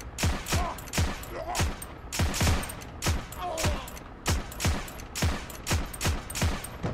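Steady semi-automatic fire from an M1/M2 carbine in the video game Heroes and Generals, loud evenly spaced sharp shots about every half second, continuing for several seconds.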